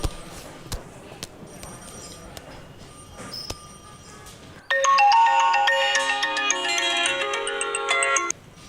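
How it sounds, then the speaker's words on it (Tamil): A phone ringtone bursts in loud and close, playing a bright repeating melody for several seconds after a quieter stretch of background sound in a dubbed movie scene. "சார் ரிங் ஆகுது சார்."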